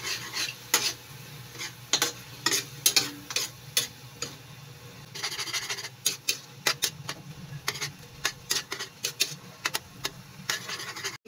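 Adobong kangkong with fried tofu is stirred in a pan with a utensil: repeated scraping strokes and taps over a soft, steady sizzle, with no one talking.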